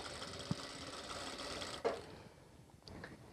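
Sewing machine stitching elastic onto gathered fabric for palazzo pants hums in a steady, quiet mechanical whir with a couple of faint clicks, fading slightly toward the end.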